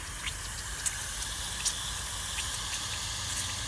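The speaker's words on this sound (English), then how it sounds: "Can hear the water flushing out of the line." Faint, steady rushing hiss of water flushing out the end of a drip irrigation line, a continuous low gush with a few small spatters and no talking.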